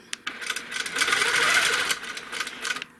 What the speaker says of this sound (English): I am going to stitch a diagonal line that goes from where I am down one line to about the middle of where that half circle is